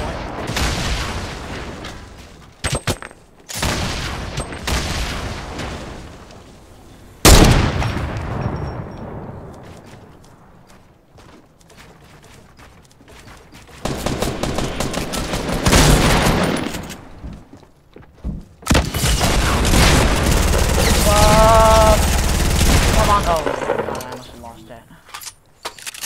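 Rapid gunfire, grenade blasts and RPG explosions from a Fortnite match, arriving in loud bursts and volleys with brief quieter gaps between them, one dense stretch near the end.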